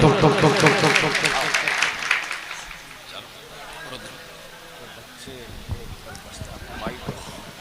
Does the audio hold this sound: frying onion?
no